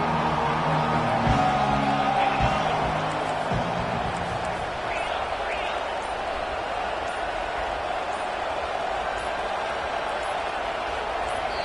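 College football stadium crowd at an NCAA playoff game, a loud dense roar that holds steady throughout, with a commentator talking over the first few seconds.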